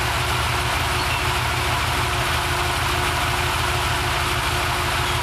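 A car engine idles steadily with an upgraded high-output alternator while the electric fan and high beams are on. The low, even rumble is close and constant, with no talk.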